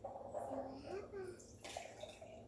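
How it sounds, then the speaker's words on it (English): Water is poured into a glass jar during a children's rain-in-a-jar activity, making a soft, faint trickle while a voice and other speech murmur alongside. "So Riley, do you wanna pour the water into our jar?"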